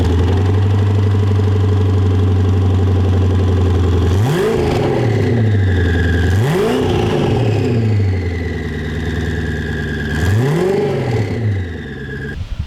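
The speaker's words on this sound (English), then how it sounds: "let me start this up so you can hear this V8 roar." The V8 engine of a 1200 hp Koenigsegg Agera R idles with a deep, steady rumble, broken by three sharp revs that rise and fall back, loud and close with no talking.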